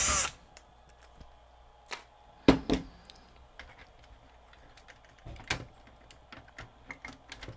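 Screws are worked out of a JVC HR-S9600U S-VHS VCR that shuts off after a few seconds, with sparse small metallic clicks and a couple of louder clunks against a quiet background.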